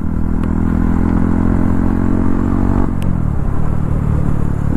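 A motorcycle cruises along a highway with its engine droning steadily under heavy wind rush, a short clatter partway through, then the tone drops slightly as the ride continues, with no talking.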